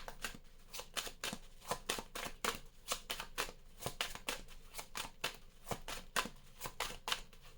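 Tarot cards are shuffled by hand at close range, a continuous series of quick papery riffles and slaps in an uneven rhythm, with no voices over them.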